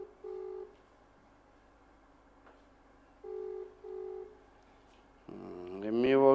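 Outgoing phone call to an official that goes unanswered: a ringback tone sounds in two-part pulses with long silent gaps between, then a voice starts speaking at the end.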